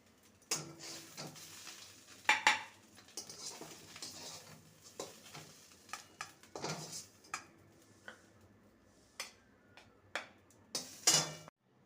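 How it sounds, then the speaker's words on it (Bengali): Cooked cauliflower leaf mash is scraped from a wok into a bowl, giving faint, scattered scrapes and clinks of a utensil against metal at an irregular pace, with no talking. "এটা একদম রেডি হয়ে গেছে দেখতে পাচ্ছে কড়াই থেকে ছেড়ে আসছে এবার এটাকে একটি পাত্রে নামিয়ে নেবো"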